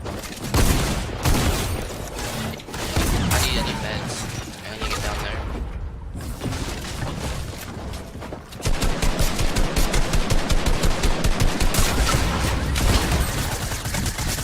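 Dense, loud bursts of in-game gunfire from a new weapon in Fortnite Season 10, with heavy volleys early, a short lull, then rapid evenly spaced automatic shots hammering continuously through the second half.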